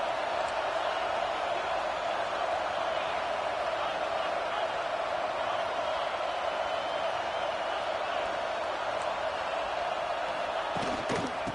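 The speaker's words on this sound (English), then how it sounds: "Listen to the crowd energy here in the early going." Stadium crowd at a college football game, a steady, dense roar of cheering and noise that fills the whole stretch, with a brief burst of sharper sounds near the end.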